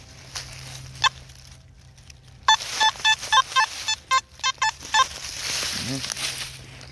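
A series of short electronic beeps pulses from a Nokta Makro Simplex metal detector's target tone, about a dozen in quick succession over a soft hiss, with a brief low hum at the end.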